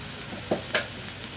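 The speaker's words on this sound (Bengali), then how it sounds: "এবার এটাকে নেড়ে দেবো।" Potato curry frying in a pan, stirred by hand, with two short scraping stir strokes over a steady soft sizzle, close and fairly quiet.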